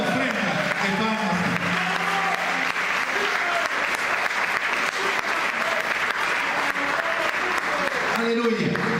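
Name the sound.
congregation applause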